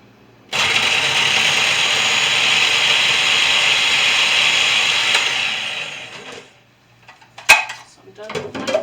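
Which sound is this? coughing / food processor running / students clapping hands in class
food processor running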